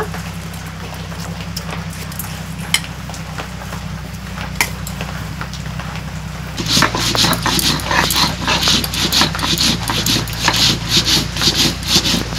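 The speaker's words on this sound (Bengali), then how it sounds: "এই চালটা আমি শিলনোড়াতে বেটে নিব।" Soaked sun-dried rice being ground by hand on a traditional shil-nora grinding stone, a steady rasping rub that grows louder and denser partway through, with dog whimpers or barks in the background.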